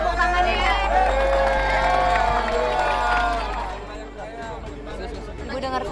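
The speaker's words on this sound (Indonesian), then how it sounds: "Yuk, boleh kasih tepuk tangannya." A crowd of residents at a house-renovation event cheers and whoops with loud, mixed voices that fade partway through before rising again; children shout among the noise.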